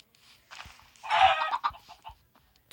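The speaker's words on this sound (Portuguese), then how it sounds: "Aqui eu tenho bastante galinha." Chickens in the Minecraft video game give a brief burst of clucking, short and moderately loud, with faint scattered sounds around it and no talking.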